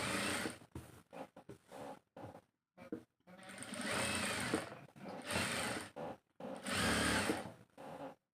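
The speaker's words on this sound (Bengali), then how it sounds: "এই সম্পূর্ণ এই সাইড দিয়ে চাপ সেলাই দিয়ে নেবেন।" A sewing machine stitches a hijab with an attached face mask in short, separate bursts of whirring. The bursts are split by brief silences, and the last few run longer and steadier.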